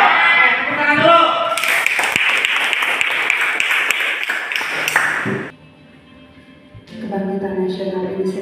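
A burst of applause, dense rapid clapping lasting a few seconds, comes between stretches of music and voices, then drops away into quieter sound.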